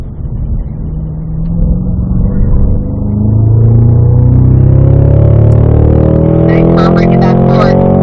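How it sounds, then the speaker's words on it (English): A race car in fourth gear accelerates down a track straightaway, its engine drone loud and close, climbing steadily in pitch over several seconds. "Make sure we're fourth gear on the straightaway here, Harp."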